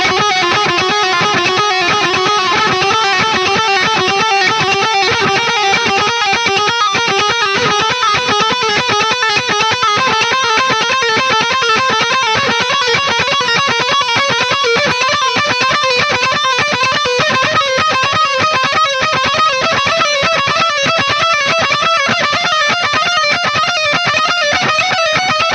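Electric guitar with distortion plays a fast, relentless shredding exercise climbing up the fretboard, dense picked notes in steady rhythm, loud and close with no talking.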